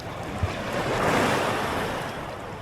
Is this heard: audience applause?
no